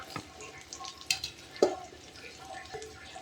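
Okra is tipped into a pan and stir-fried for a tamarind curry, giving a soft sizzle with a few sharp scrapes and taps of a spoon, fairly quiet and close, with no talk.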